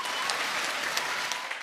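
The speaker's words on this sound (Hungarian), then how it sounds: "Hatalmas nagy tapsot kérek nekik." An audience applauds a fourth-placed pair at a Hungarian show's results announcement, with dense, steady clapping filling the whole short stretch, moderately loud and without speech.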